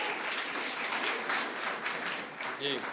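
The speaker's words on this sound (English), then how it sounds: "Please give him a round of applause" Audience applause at a sales awards event as a speaker is welcomed on stage: steady, fairly dense clapping from the crowd, with a voice briefly heard near the end.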